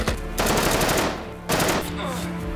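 Loud, dense gunfire in a firefight between Dominic and a band of mercenaries, rapid automatic bursts crackling in two sustained waves with a brief lull between them.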